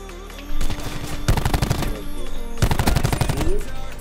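Gunfire in a video game, loud rapid bursts of shots in two clusters over a steady background hum, with a voice briefly heard between them.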